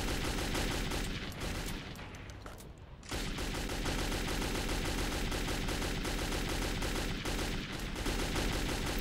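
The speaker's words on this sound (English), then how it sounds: "I'm just shooting randomly through those barricades." Rapid gunfire tears through barricades in Metro 2033, a loud continuous stream of shots that breaks off briefly before resuming just as densely.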